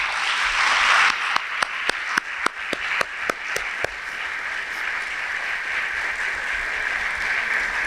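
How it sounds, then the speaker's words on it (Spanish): Audience applause at a lecture in a hall at Mexico's Instituto Politécnico Nacional: a loud, dense wash of clapping that carries on steadily for the whole stretch, with a run of sharp, evenly spaced claps standing out near the start. "por favor dense ustedes un aplauso por pertenecer al Politécnico"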